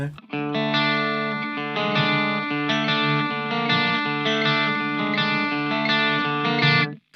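Electric guitar plays sustained, shimmering chords with a wobbling effect, ringing continuously before cutting off near the end.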